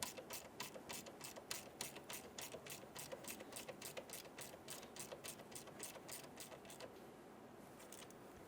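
Ratchet rapidly clicking in an even, close series as a valve cover bolt is snugged down on a 2011-2014 Hyundai Sonata, dying away near the end with no voices.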